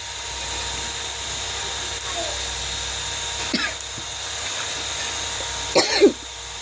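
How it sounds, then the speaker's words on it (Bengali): Two short coughs from a person with a cold break through a steady background hum while cooking, one midway and a sharper one near the end. "তো আমার একটু কাশি হয়েছে"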